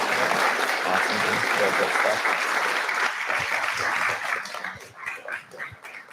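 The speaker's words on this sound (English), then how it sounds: "give another big round of applause for Andrew" Conference audience applauding panelist Andrew after a session on business exits, a loud burst of clapping that holds steady, then thins into scattered claps.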